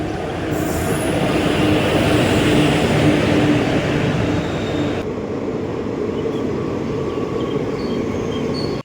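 A local train pulls into Jaleswar railway station, its loud wheel rumble and a thin squeal from the rails carrying on steadily, then easing slightly as it slows.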